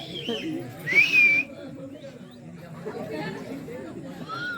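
A sharp whistle rises and holds for about half a second during a stage comedy performance. A fainter whistle follows later, while a crowd chatters continuously in the background.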